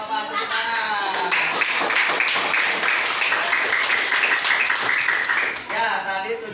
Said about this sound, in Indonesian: Oke, nggak apa-apa, tepuk tangan.